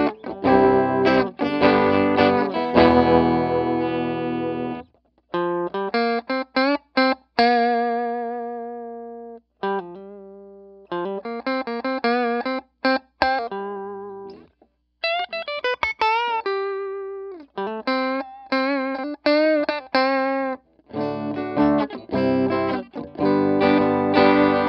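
Clean electric guitar through a Vox AC100 amp without reverb, playing short phrases and chords separated by brief silences, notes stopping dry rather than trailing off.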